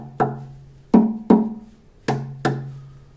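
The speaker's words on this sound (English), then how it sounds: "So what do the drums sound like inside?" A wooden tongue drum guitar with a second resonator box with holes nested inside its sound box gives five struck, resonant notes with fast attacks and ringing decays, spaced irregularly and heard alone.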